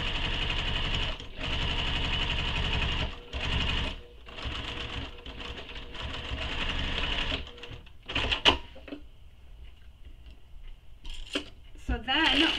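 Sewing machine stitching a seam on a fabric sling pack, a steady buzzing run with brief pauses between bursts, then a few clicks and handling noises near the end, close and fairly loud.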